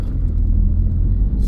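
A heavy vehicle towing a static caravan as an abnormal load rumbles past close by on a road in Pembrokeshire, a steady loud low engine drone.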